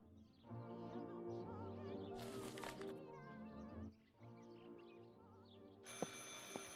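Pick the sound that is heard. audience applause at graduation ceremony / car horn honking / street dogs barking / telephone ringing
telephone ringing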